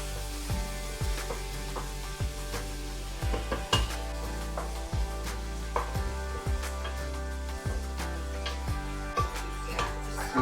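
Small onions fry for a beef dish, a soft steady sizzle broken by repeated spoon taps and scrapes against the pan as they are stirred, close and quiet.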